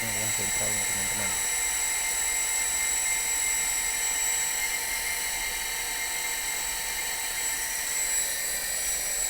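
A small household electric water pump motor restarts after its central pressure setting is adjusted, giving a steady, loud whine and hum that runs throughout after a brief rhythmic knocking at the start.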